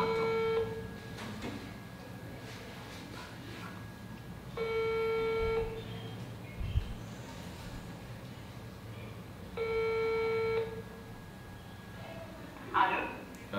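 A telephone ringback tone sounds during an outgoing call, three separate electronic ring bursts about five seconds apart, each lasting roughly a second, heard close and clear between quiet stretches with faint background noise.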